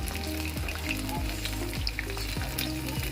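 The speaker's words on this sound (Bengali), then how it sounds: "চিকেনটা খুব সুন্দরভাবে ভাজা হয়ে গেছে।" Chicken 65 pieces deep-fry in oil with a dense, crackling sizzle that holds steady at moderate loudness. Faint stirring or scraping sweeps recur through it, and nobody speaks.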